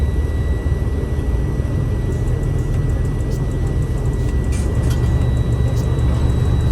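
A truck's engine runs at raised throttle, around 1,000 RPM, to pump up air brake pressure at a CDL training yard: a loud, steady, close diesel drone with a constant low rumble and no speech.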